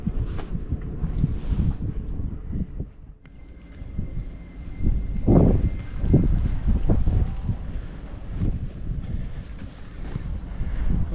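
Steady wind gusting across the deck of a sailboat at sea, a loud rushing roar buffeting the microphone, with a few thumps and rattles on deck and no speech.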